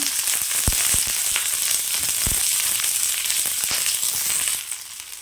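Shallots frying in a pan for a South Indian mutton curry, a loud steady sizzle close by with a few soft clacks of stirring, easing slightly at the end.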